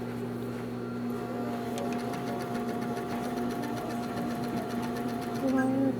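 Serger sewing machine stitching knit fabric, a fast continuous mechanical whir with a steady hum that grows slightly louder near the end, close by while a person talks over it.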